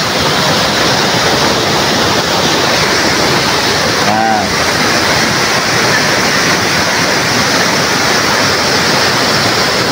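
Loud, constant roar of a strong cold-spring river current rushing nearby, broadband and unbroken, with a faint voice briefly audible beneath it.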